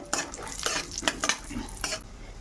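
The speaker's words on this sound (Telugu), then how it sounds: "తర్వాత పిస్తా పప్పు వేస్తున్నానండి. అవి కొంచెం వేగిన తర్వాత" Cashews and pistachios sizzle in a pan for semiya payasam, with repeated scraping strokes of a spoon stirring them through the hot fat, close and clear with no talking.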